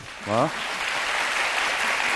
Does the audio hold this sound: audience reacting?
yes